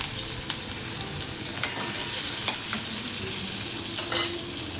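Mustard seeds, cumin and green chillies fry in hot oil with a bright, constant sizzle, punctuated by a few sharp crackles and pops as the seeds hit the pan, close and alone.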